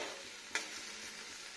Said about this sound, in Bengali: ভাজা যাক কুড়মুড়ে হয়ে।